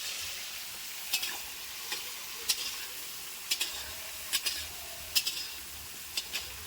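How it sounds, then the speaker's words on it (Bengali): Potatoes frying in butter with a soft, quiet sizzle, punctuated by a series of light, sharp clicks and scrapes from stirring at irregular intervals. "বাটার দিয়ে আলু ভাজা চলছে"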